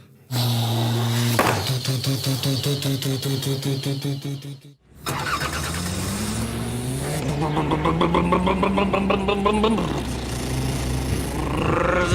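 A voice imitates an engine with a revving brum-brum sound, pitch climbing and falling, loud and close, followed by a rising vroom.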